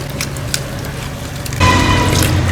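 Freshly dug Chinese onions (jiaotou) washed by hand in a basin of water, with sloshing and splashing that swells into a louder, continuous churn near the end.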